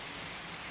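Steady rain falls as a constant, soft hiss with no talking, a brief stretch of even wash behind a bedtime story.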